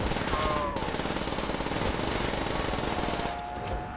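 Rapid automatic gunfire rattles without pause in the Call of Duty: World at War Halloween special, a loud, dense burst that ends with a brief trailing echo.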